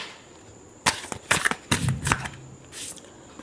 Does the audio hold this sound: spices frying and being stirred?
no